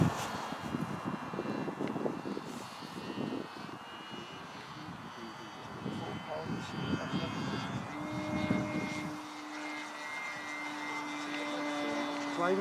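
A de Havilland Chipmunk light airplane's piston engine running at full power in a slight dive: a steady droning cockpit roar throughout, with voices talking over the engine noise.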